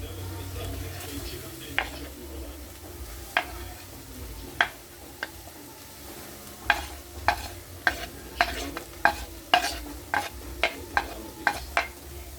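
Onions sizzle quietly in a pan with spices for beef kebabs, a low hiss under a run of sharp, regular tapping and scraping clicks from a spoon against the pan.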